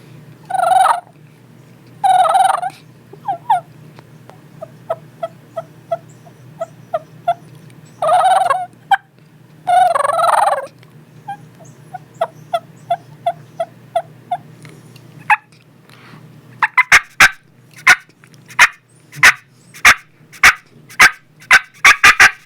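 A hunter imitates wild turkey clucks, purrs and soft yelps on a diaphragm mouth call: scattered single clucks, rolling purrs, then a closing run of sharp rhythmic yelps, close and clear with no talking.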